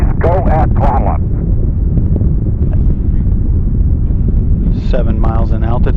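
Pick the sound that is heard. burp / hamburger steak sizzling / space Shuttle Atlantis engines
space Shuttle Atlantis engines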